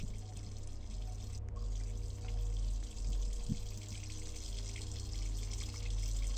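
Water running steadily from a kitchen tap inside a Roblox game, a constant close trickle and splash that continues without a break under a low hum.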